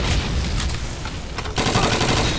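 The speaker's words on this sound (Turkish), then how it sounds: "Ya Price önündeki herifi vur be." Gunfire in Call of Duty 2, with rapid automatic bursts and scattered shots that end in a sudden loud sustained burst of fire. The firing is loud and continuous, and no one speaks.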